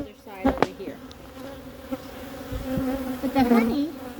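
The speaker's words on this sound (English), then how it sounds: "We'll probably have to run the bees off of it again." Honey bees buzzing during a hive inspection: close, wavering drones from individual bees rise and fall around the listener over a steady background hum, with occasional handling knocks.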